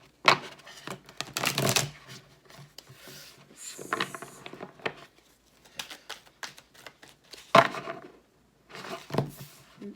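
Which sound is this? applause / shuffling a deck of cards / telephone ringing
shuffling a deck of cards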